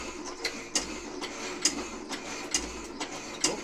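Atlas power hacksaw working through metal with a standard hacksaw blade, its strokes giving a steady mechanical clatter with regular sharp ticks roughly every second over a continuous motor hum, close and moderately loud.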